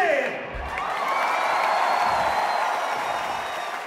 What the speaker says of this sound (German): Applaus für Pimmelgesicht B